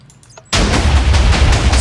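Minecraft redstone-wired TNT cannons fire in a dense, sustained barrage after a brief quiet start, a loud continuous roar of overlapping blasts.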